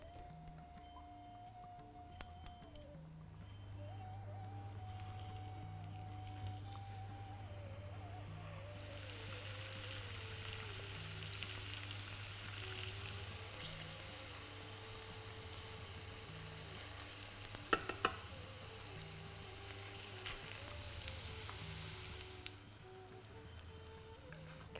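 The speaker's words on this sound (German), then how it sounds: "Ich werde jetzt eine Pfanne nehmen und ein bisschen Erdnussöl erhitzen und dann werden wir die richtig schön rundum knusprig braun braten" Chickpeas frying in hot peanut oil in a pan give a faint, steady sizzle with light crackle throughout, under a low background hum and some soft clicks.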